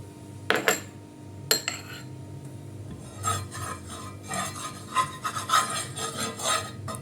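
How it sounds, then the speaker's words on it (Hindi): Ghee is spread across a hot tawa griddle for aloo paratha, producing a couple of sharp metallic knocks followed by repeated rasping scrapes and rubs on the metal surface, close and intermittent. "इधर तवा गरम हो गया है, इस पे हल्का सा ये जो घी है ये लगाऊंगी"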